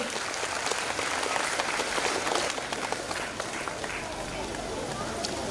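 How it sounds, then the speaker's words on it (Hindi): Audience at a children's abacus award ceremony clapping, a continuous crowd of hands clapping in a hall with sharp individual claps standing out, fairly distant and under a murmur of voices. "तो बच्चों को मोटिवेशन के लिए थोड़ा सा जोरदार तालियां बजा दीजिए।"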